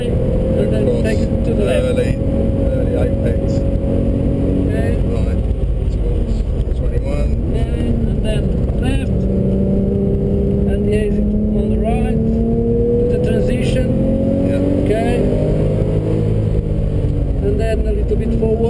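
A race car drives at speed around the Portimao circuit, its engine droning loud and close, the pitch rising and falling through gear changes and corners, while a voice talks over it throughout.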